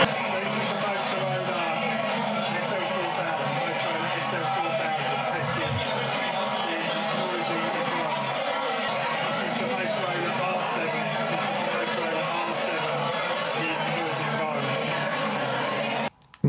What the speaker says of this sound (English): I've got some crowd noise playing from my speaker up there